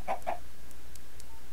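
Video game chickens cluck twice in quick succession, short and mid-pitched, over a low steady background hum with no talk.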